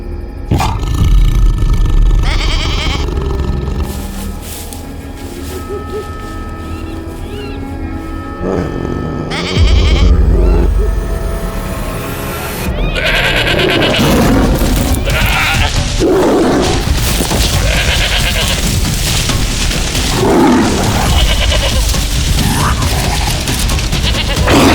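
A goat bleats as a tiger seizes it by the neck, giving loud, strained repeated cries mixed with deep roaring, close and continuous over about twenty-five seconds.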